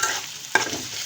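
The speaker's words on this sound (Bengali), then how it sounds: "করলা ভাজি আমি করে নিতেছি আগে, তেল চিপচিপ হয়ে গেছে একবারে" Bitter gourd frying in hot oil, a close broad sizzle with one sharp clatter of stirring or a utensil striking the pan partway through, short and without voices.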